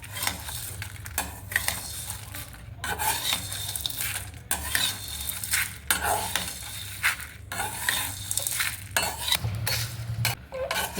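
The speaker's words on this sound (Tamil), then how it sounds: "மீடியம் ஃப்ளேம்லேயே வச்சு ஃப்ரை பண்ணுங்கள்" Whole spices for homemade garam masala dry-roasting in a pan over a medium flame, stirred with a utensil that scrapes and rattles in uneven bursts over a faint background sizzle, with brief quiet gaps between strokes.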